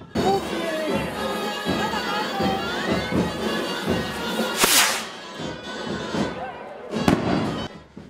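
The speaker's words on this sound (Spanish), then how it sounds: "los cohetes anuncian el paso del santo" Two sharp, loud firework rocket bangs burst out over a crowd at a San Lorenzo religious street procession, with people talking and murmuring throughout between the blasts.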